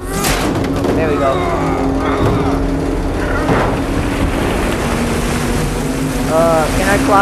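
A motorboat engine in Call of Duty: Black Ops 3 drones steadily over splashing water and wind, with voices talking over the noise throughout.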